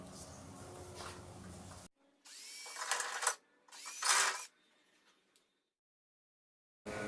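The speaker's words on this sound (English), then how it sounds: "They both must be drilled out to 7/16." A power drill bores out tailgate hinge holes to 7/16 inch for a tailgate assist install, in two loud, steady drilling bursts after a noisy start, then silence.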